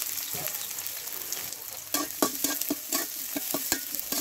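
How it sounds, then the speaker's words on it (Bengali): Cumin seeds, chopped onion, garlic and slit green chilies sizzle in hot oil in a wok, a steady fry hiss broken by clattering stirs that grow busier midway, with no talking. "কড়াইয়ে দিয়ে দিলাম কিছুটা তেল এবং ফোড়নে দিয়ে দিলাম কাঁচা গোটা জিরা, পেঁয়াজ কুচি, রসুন কুচি ও ফালি করে নেওয়া কাঁচামরিচ।"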